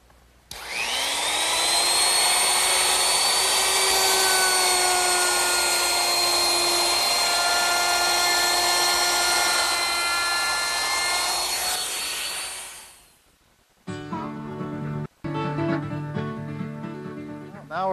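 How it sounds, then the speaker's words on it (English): Router fitted with a 1/4 inch roundover bit cutting the edges of wooden candle stand legs: a loud, steady high whine that spins down after about twelve seconds, followed by music. "I want to use a 1/4 inch rounding over bit, and I want to round over the top edges of each leg"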